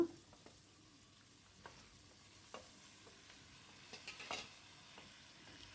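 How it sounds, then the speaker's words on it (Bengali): Spinach and partly cooked vegetables are stirred in a pan for a sabzi dish, with quiet scraping and soft intermittent clinks of a spatula over a faint low sizzle, no talking. "পালং শাকটা খুব ভালো করে নাড়াচাড়া করে একটু নেড়ে দিলাম"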